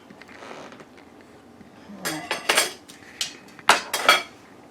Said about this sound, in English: Let's lift the pork roast out here.